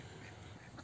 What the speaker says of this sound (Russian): а здесь вот бы абсолютно дикие утки